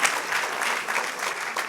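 Applause rolls on through a church congregation, a brief stretch of many people clapping at moderate loudness, slightly uneven as it begins to thin.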